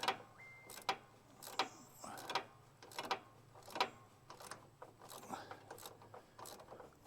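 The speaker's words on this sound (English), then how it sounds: "The bolt on the front is a 13, so I'll loosen this up here, get this off." A wrench works a 13 mm bolt loose on a Greenworks zero-turn mower, giving a series of sharp metallic clicks and ratcheting scrapes at an uneven rhythm, close and fairly quiet.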